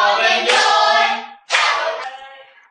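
A class of schoolchildren applauding a new classmate: two short bursts of bright, close hand clapping, the second fading out quickly.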